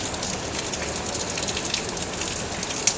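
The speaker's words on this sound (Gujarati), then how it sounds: "જો હું તમને બહાર વરસાદ બતાવું." Heavy monsoon rain pours steadily outside a rented room in Surat, a dense continuous hiss of drops striking surfaces close by, with no voices.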